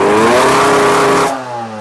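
A 2008 MBK X-Limit Enduro motorcycle engine revs hard and misfires, a loud close buzzing rev that drops abruptly to a rougher, lower idle near the end.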